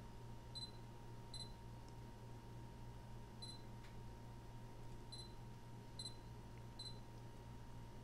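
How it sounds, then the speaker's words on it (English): A Sony a7 camera gives short high autofocus lock confirmation beeps, mostly in quick pairs, repeating several times over a faint steady hum, quiet and close, with no speech. "every time you hear that green pop-up, or I should say noise associated with the green lock on, that means we've got an actual lock"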